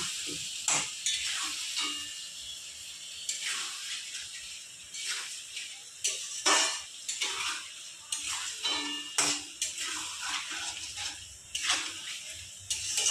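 Ginger-garlic paste frying with spices in a pan for a magur fish curry, a bright hissing sizzle punctuated by repeated scraping strokes of stirring, close and steady, with no voices.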